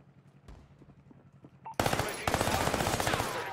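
Rapid automatic gunfire from an Armaguerra build in a shooter video game. Faint scattered shots give way to loud, dense, fast bursts that keep going to the end.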